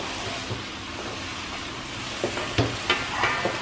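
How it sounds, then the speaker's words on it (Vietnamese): Pumpkin vine greens and fresh shrimp stir-frying in a pan make a steady, close sizzle, with a few spatula scrapes and stirring knocks toward the end and no talking. "Mình cứ tiếp tục mình xào để cho rau nó chín"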